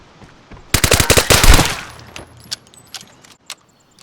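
Gunfire in a gunfight in the video game Vigor: a loud, fast automatic burst of about a dozen shots, followed by scattered fainter shots and clicks fading out.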